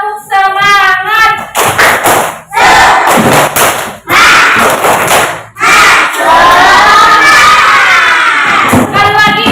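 A classroom of students performs a rhythmic clapping chant, with loud group clapping in bursts and shouted voices, the whole class together close by filling the room.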